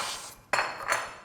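Cutlery and plates handled while serving food, with two clattering, clinking knocks about half a second apart, fairly quiet, and no voices.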